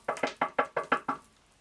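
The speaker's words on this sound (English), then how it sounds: "This little Spanish man is knocking on my window." Seven quick, firm knocks on a car window, evenly spaced and close, each a sharp hollow rap that fades quickly, ending in silence.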